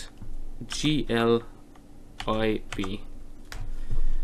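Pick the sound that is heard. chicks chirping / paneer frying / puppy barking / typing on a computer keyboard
typing on a computer keyboard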